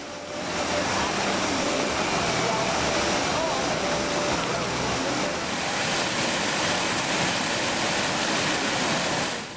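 Niagara Falls at night gives off a broad, steady roar of falling water, loud and continuous throughout with no break and no voices.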